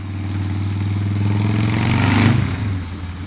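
A Harley-Davidson Softail fitted with Vance & Hines Big Shot exhaust pipes rumbles close by, its deep idle swelling into a short rev before settling back, heard alone.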